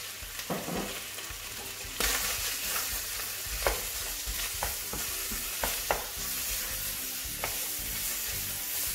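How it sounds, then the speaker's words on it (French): Onions and garlic sautéing in olive oil in a frying pan for beef stroganoff, a steady close sizzle with repeated sharp scrapes and knocks of stirring, louder after the first couple of seconds. "Faire revenir les oignons avec l'ail."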